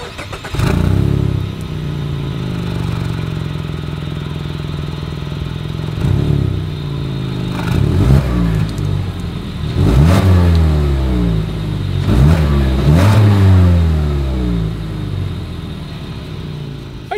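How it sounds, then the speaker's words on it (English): A 2022 Mazda CX-5 compact SUV exhaust idles with a deep rumble, then revs sharply several times in bursts, each climbing and falling back, loud and close with no talking. "As always, here is that exhaust clip."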